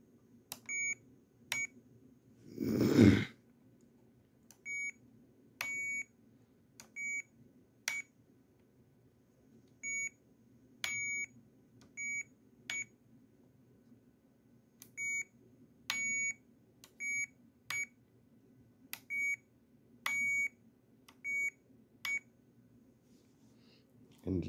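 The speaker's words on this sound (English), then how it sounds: "beep 2 is a little bit longer, and then beep 3 is even longer than that" Short electronic beeps from a Jumper T12 Pro radio controller as its switches are flipped, crisp tones of varying length repeating in irregular clusters, with one louder burst of handling noise near the start.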